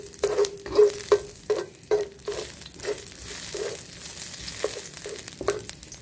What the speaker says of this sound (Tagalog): igisa na po natin yung ating bawang